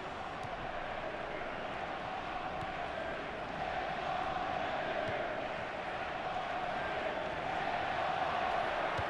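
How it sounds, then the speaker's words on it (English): Stadium crowd noise in the football video game FIFA 15 on PS4, a steady dense roar of spectators filling the whole stretch, swelling slightly toward the end, with no distinct voices on top. "the crowd really enjoying it"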